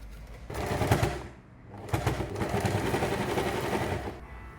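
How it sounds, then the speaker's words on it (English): Sewing machine stitching across a tote bag strap to reinforce it, running in two close, loud bursts of rapid mechanical chatter separated by a short pause. "we can sew over this area to make the strap more sturdy"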